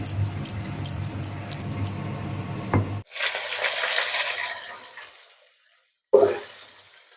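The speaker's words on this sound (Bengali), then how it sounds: "এটাকে চিকেনটাকে ভালো করে আমরা এপিট ওপিট করে ভেজে নিব" Chicken pieces being fried in a pan, turned over on both sides, give a steady crackling sizzle that stops abruptly, returns as a fainter hiss, falls silent, then resumes in a short loud burst.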